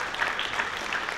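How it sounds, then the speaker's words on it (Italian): Brief burst of audience applause at an Italian cycling talk event, a steady wash of clapping that holds evenly for about a second with no voices over it. "Bellissimo, no? applauso."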